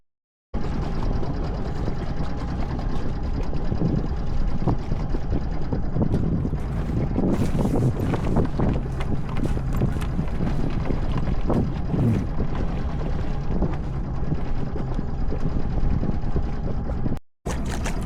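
Boat traffic near Thomas Point Shoal Lighthouse heard from a sailboat, with a steady engine drone and water rush under heavy wind buffeting the microphone, continuous and fairly loud.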